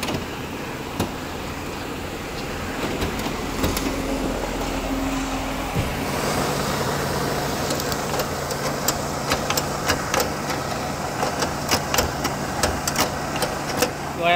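A luxury car's engine idles smoothly with its bonnet open in the engine bay, giving a steady low hum with faint ticking, heard up close with no talking.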